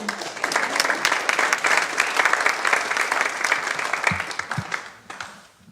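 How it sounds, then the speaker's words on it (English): A poetry festival reading audience claps in a dense, sustained burst that holds steady before tapering off at the end. "She likes applause."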